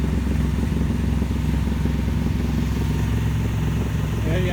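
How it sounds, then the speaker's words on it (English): A sailboat's engine runs near a ferry terminal, a steady close mechanical chugging and thrum with a constant rhythm, while someone talks over it. "There were some tugboats in the way, so I had to start the engine."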